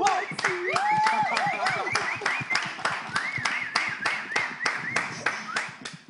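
A studio audience claps steadily for several seconds, a dense patter of many hands that thins toward the end, with a voice rising over it at the start.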